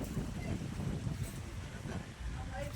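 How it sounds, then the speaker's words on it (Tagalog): Strong gusts blowing across a shoreline where outrigger boats are repaired, a heavy low roar of wind buffeting the microphone, close and loud, with a voice faintly underneath. "Malakas na naman ang hangin kumingan."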